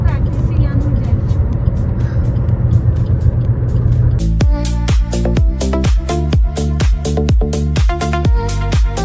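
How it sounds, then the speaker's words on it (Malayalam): A manual gear car is driven on a quiet road with little traffic. A steady engine rumble runs for several seconds, then gives way to a run of sharp, regularly spaced clicks and thumps close by. "അപ്പൊ ഈ വഴി ഒന്ന് ഓടിച്ച് പ്രാക്ടീസ് ചെയ്യാന്ന് വിചാരിച്ചു"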